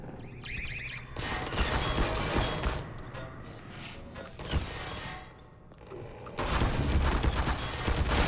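Automated turrets open fire in Half-Life 2, dense rapid bursts of gunfire sounding in several loud sustained stretches broken by brief lulls, alongside mechanical whirring and game noise.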